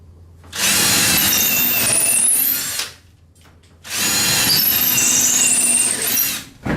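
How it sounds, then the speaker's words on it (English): A power drill pre-drills holes for garage shelving in two sustained bursts of a few seconds each, separated by a short pause, loud and close. "pre-drill all of them first"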